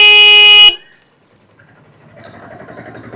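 The horn of a 2024 Hero Xtreme 125R motorcycle sounds one loud, steady honk for under a second, then cuts off abruptly, and faint ambient noise rises afterward.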